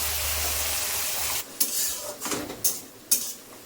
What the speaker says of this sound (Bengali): এবার পেঁয়াজটা দিয়ে দিলাম।